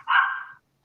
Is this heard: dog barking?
yes